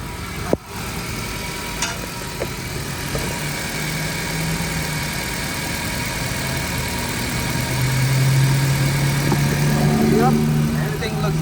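A Honda 1.5L car engine, from an Accord or Civic with 100K miles, idles steadily after a water pump replacement, giving a constant low hum that builds slightly toward the end.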